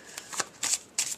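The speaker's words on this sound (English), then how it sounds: "So let's just shuffle and let's just see what comes." Tarot cards being shuffled by hand in three quick riffling bursts, close and soft, with no talk.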